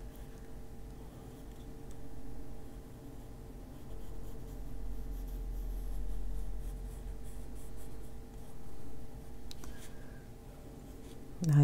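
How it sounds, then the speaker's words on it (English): Colored pencil shading on paper with a natural brown pencil, held far back and moved in quick shaking strokes, giving a steady soft scratchy scribble that continues close and alone throughout. "I like to hold the pencil way back and kind of shake my hand while I'm doing it."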